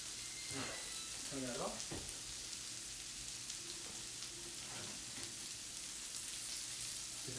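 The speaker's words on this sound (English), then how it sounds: "Oh, that sounds like my steak." Steak sizzling and frying in a pan in a home kitchen, a steady broadband hiss running throughout, with a few brief voices talking over it.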